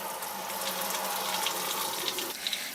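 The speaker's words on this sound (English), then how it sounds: "we're able to actually fill up the washing machine." Water runs steadily into the drum of a Giantex mini twin tub washing machine, a continuous soft rushing and splashing at moderate level with a few small bubbling spurts near the end.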